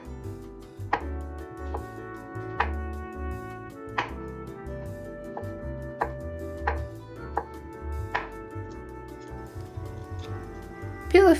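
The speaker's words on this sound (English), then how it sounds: "It's time for chopping the mushrooms." Mushrooms are chopped with a knife on a cutting board in a kitchen, giving a series of crisp, irregular close knocks of the blade against the board over a quiet musical bed.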